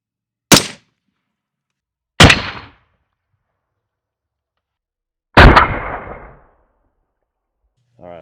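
A .223 rifle fires a 77-grain Sierra TMK into ballistic gelatin covered with hide, simulating ribs and muscle. Three sharp, loud bangs ring out outdoors at uneven intervals, the last trailing off in a longer decay.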